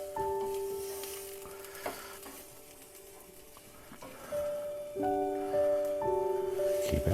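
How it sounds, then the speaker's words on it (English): Raw, unboiled potatoes sizzle steadily in a frying pan for hash browns. The frying hiss is moderately loud and continuous, with a few tonal clinks and hums over it and no talk. "The reason why we're frying this up is because we haven't boiled the potatoes in the beginning."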